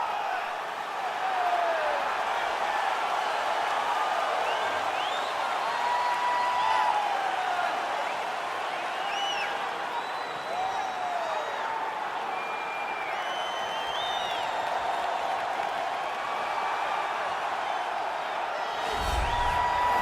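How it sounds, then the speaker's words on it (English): A sold-out arena crowd cheers and murmurs steadily before a women's bantamweight championship bout in the UFC 4 video game, with a broad sustained roar, scattered whistles and whoops throughout, and a brief thump near the end. "sold-out crowd"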